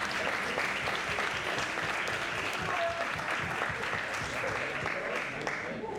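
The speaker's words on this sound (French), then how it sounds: "on applaudit encore une fois." Steady, dense applause from an audience at a talent show fills the room, sustained and fairly even throughout.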